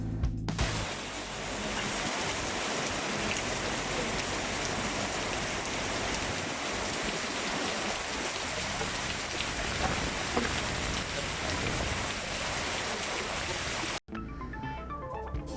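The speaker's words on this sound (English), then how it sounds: "It rained cats and dogs" Heavy rain pours down in a dense, continuous roar for the whole stretch, loud and close, cutting off abruptly near the end.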